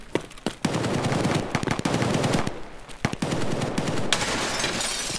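Gunfire in the video game Escape From Tarkov: loud, rapid bursts of automatic weapon fire with sharp single shots mixed in, crackling steadily throughout.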